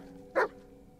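A dog barks once inside the Blair Witch video game, a single short, clear bark standing out against a quiet, low ambient background.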